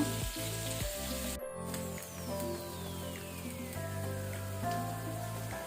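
Paneer cubes shallow frying in oil in a pan over low to medium flame, a steady close sizzle and crackle running throughout with a brief clatter partway, no voices.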